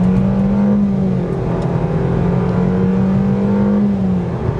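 A 2020 Nissan Versa with a CVT accelerates at full throttle, a steady droning engine held at near-constant pitch with a slight dip and rise, heard loudly from inside the car.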